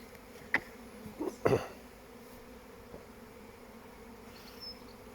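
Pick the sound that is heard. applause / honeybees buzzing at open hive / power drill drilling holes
honeybees buzzing at open hive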